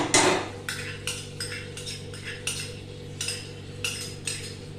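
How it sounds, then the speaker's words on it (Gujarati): A tablespoon of crushed garlic is sautéed in a pan for a vegetable shahi kurma, with a spoon scraping and clinking against the metal in a steady, fairly quiet rhythm of about ten strokes. "ગાર્લિકને જરા સોટે કરીએ."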